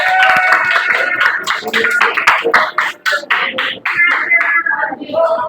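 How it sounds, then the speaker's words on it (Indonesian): Applause for two students after a classroom Arabic teaching practice session, dense hand clapping from a small group filling the room, fairly loud and steady, with some voices mixed in. "Kasih tepuk tangan untuk kawan kita berdua deh."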